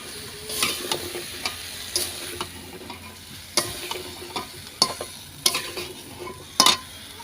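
Winter vegetables being stirred and sautéed with spices for bata fish curry: a low sizzle under repeated sharp scrapes and clacks of a utensil against the pan, coming in irregular bursts at close range.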